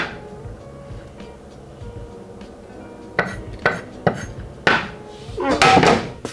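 Chili ingredients being cut in a home kitchen, with soft knife taps on a board followed by several sharp clacks and clatters of utensils and dishes, the sounds spaced unevenly and close by.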